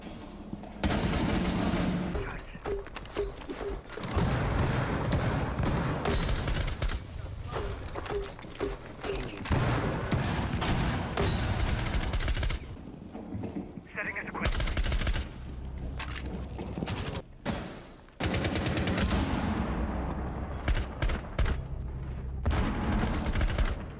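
Rapid gunfire from a Rainbow Six Siege match, loud and dense, with bursts and short pauses over about twenty seconds, ending with a sustained high tone.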